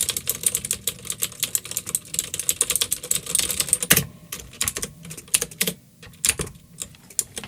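Rapid clicking of keys on a computer keyboard, fast irregular close-up taps with a few brief pauses and no voices.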